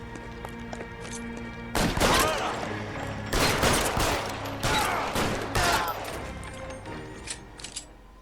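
Gunfire in the crime game L.A. Noire: several loud, sharp bursts of shots in clusters over a few seconds, each cracking out and echoing, with quieter gaps between volleys.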